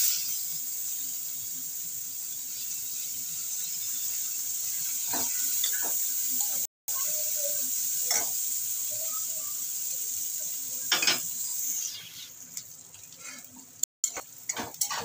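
Chopped onion drops into leftover fish-frying oil with nigella seeds and dried chili, giving a steady soft sizzle with occasional spoon clinks and stirring taps against the pan, fairly quiet and close.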